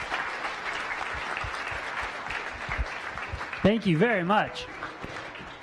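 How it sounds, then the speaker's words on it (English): Audience applause after a science cafe talk on mapping the brain's wiring diagram, a steady wash of clapping from a room of listeners that continues throughout, with someone briefly speaking over it near the end. "Let's give him a round of applause."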